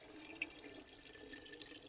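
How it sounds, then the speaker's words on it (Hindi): Cold water pours steadily into freshly set homemade curd to make lassi in a home kitchen. The pour is a soft, continuous splashing hiss, faint and fairly distant, with no voices. "साथ ही अब हम इसमें ना डाल देंगे पानी"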